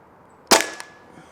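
A single sharp, loud crack from a Hatsan Blitz .30 caliber PCP air rifle, followed by a brief ringing tail and a faint second tick, with quiet before and after.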